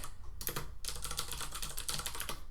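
Rapid typing on a computer keyboard, close and steady, with a brief pause before a run of dense, quick keystrokes continues alone.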